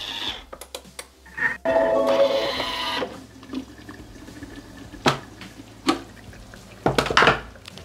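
A Thermomix (Bimby) food processor cooks pasta with zucchini and speck at 100 degrees, reverse blade, soft speed, basket in place of the measuring cup: a low steady motor hum under clinks, knocks and a burst of bubbling hiss.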